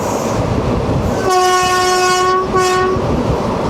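The Bilaspur–Ernakulam Express rumbles past close by with a steady rolling roar, and its loud horn blares twice, a long blast followed by a shorter one.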